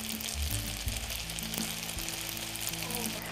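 Pasta sauce made with fish sauce simmers and sizzles in a pan, a steady close frying hiss with occasional soft pops, heard on its own without talk.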